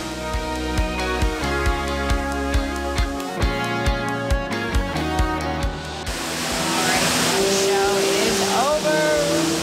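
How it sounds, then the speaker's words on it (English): An indoor waterfall inside an airport terminal, heard as a steady broadband rush that swells over the last few seconds after rhythmic background music fades, with a few faint chirping sounds on top. "And this is the airport waterfall."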